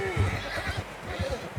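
A horse in Red Dead Redemption 2 gives a brief whinny, with faint hoof and game ambience under it.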